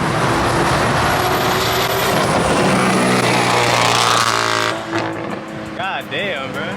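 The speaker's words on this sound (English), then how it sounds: "Single turbo. Sounds like it." A single-turbo car engine roars loudly up close as it accelerates, its pitch climbing steadily before it backs off, and voices talk over the tail end.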